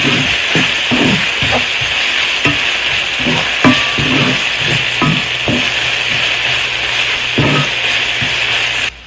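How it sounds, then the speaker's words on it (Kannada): Aloo gobi masala of potato and cauliflower frying in a pan, a loud steady sizzle throughout with repeated scraping and stirring clatter from a spatula, no talk. "ಹಸಿ ವಾಸನೆ ಎಲ್ಲ ಹೋಗೋ ತನಕ ಇದನ್ನು ಫ್ರೈ ಮಾಡ್ಕೋಬೇಕು."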